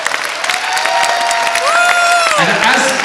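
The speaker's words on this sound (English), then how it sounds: "Give her a massive, massive round of applause." Audience applause and cheering at a corporate awards event honouring a VP of Training and Development, loud and sustained clapping with a tonal music-like sweep and some voices mixed in.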